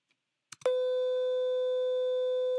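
A steady test tone from a Pro Tools phase test holds as one pure, loud, unbroken pitch after a couple of brief clicks, with no voices.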